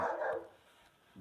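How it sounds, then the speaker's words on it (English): Dogs at a countryside estate, Quinta Fonte da Pipa, bark close and fairly loud: a quick burst of barks at the start, then a short pause and one more bark at the end. "Dogs."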